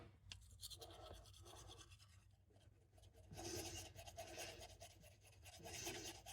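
Teeth brushed with a toothbrush during a simple night routine, a faint close-up scrubbing and rubbing in irregular bursts, growing busier in the second half, with no talking.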